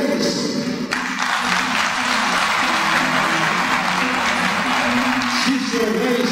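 Audience applause welcoming a singer on a Brazilian music program, a steady wash of clapping from a large crowd, fairly loud and sustained with little variation throughout.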